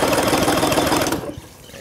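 An outboard boat engine sputters and clatters loudly and busily for about a second, then cuts out abruptly, leaving quiet background.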